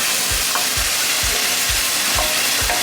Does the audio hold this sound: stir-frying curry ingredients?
yes